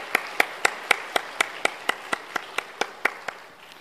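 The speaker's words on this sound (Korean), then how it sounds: "격려의 박수 한번" Congregation at a church service clapping in encouragement, a steady rhythmic beat of about fourteen sharp, evenly spaced claps over a soft wash of scattered applause, fairly close and clear with no talking.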